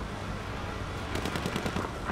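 Rapid gunfire crackles in Battlefield 1 as a burst of machine-gun shots rattles in quick succession over a dense, rumbling battle backdrop, near and sharp during the second half.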